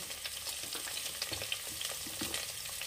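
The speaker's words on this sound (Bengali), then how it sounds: "দিয়ে দেবো সজনে ডাঁটা, দেবো কেটে রাখা কুমড়ো।" Drumsticks and chopped pumpkin drop into a hot frying pot of spiced sambar dal made with split peas, giving a steady close sizzle with scattered crackles and stirring scrapes throughout, no voices.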